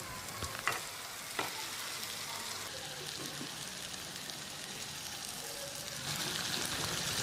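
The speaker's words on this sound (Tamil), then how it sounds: "இதை ஒரு 2-3 நிமிஷம் நல்லா ஃப்ரை பண்ணணும்." Marinated chicken frying in a pan with softened onion, tomato and masala for a restaurant-style chicken curry; a steady, soft sizzle with a few sharp clinks of a spoon against the pan early on, no voices.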